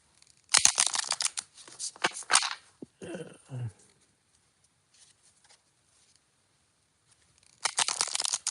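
Several quick bursts of tarot card shuffling, a crisp riffling patter close by, separated by quiet pauses and a few soft handling sounds.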